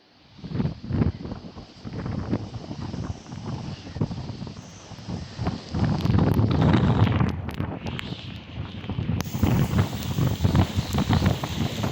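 Strong coastal wind in Mullaitivu buffets the microphone in continuous, rumbling gusts, loud and roaring throughout with no voices.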